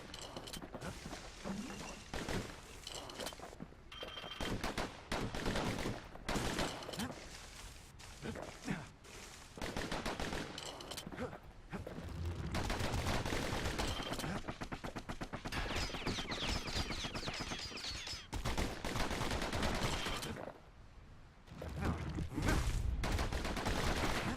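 Pincushion enemies firing volleys in the video game Bastion, a dense run of rapid, repeated shots over music and effects, with narration running through much of it.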